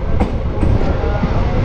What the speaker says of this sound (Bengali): মিনিট দাঁড়িয়ে ট্রেন আবার ডিপার্চার করলো